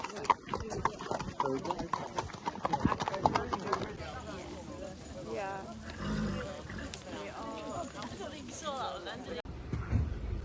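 Hoofbeats of horses cantering on a trail ride in Pembrokeshire during a day out with a visiting hunt, thudding in a steady rhythm under wind and movement noise while a rider speaks briefly.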